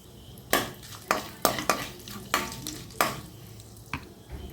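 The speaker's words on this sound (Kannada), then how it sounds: "1 ತುಂಡು ಸ್ಟಾರ್, 5-6 ಕರಿಮೆಣಸು ಹಾಕ್ತಿದ್ದೇನೆ. 1 ಚಮಚದಷ್ಟು ಬಡೆಸೊಪ್ಪು ಹಾಕಿ ಫ್ರೈ ಮಾಡುವ." Whole spices (star anise, peppercorns and fennel seeds) fry in a pan for a Kannada palak chicken gravy, with a soft sizzle under repeated sharp scrapes and clinks of a spoon stirring against the pan.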